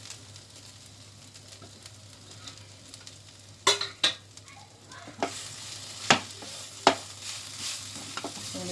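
Spiced potato filling for khasta kachori, topped with coriander leaves, sizzles in a pan while a spoon stirs it, with a few sharp scraping knocks standing out above the soft, steady frying hiss.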